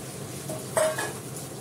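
Mung dal tipped into a pan of fried, ground onion and tomato masala where the oil is separating, giving a brief scrape and clatter of utensil on pot over a faint sizzle.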